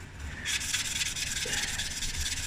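Hand sanding rubs scratches off a turned wooden cigarette holder, a close steady hiss of abrasive strokes that starts after a brief lull and continues evenly over a low machine hum.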